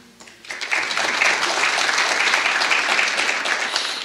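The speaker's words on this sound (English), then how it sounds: "I'm going to clap for Peggy" An audience claps for a board member at a public board meeting, the applause swelling in after a brief quiet start and holding as a steady, dense patter for several seconds.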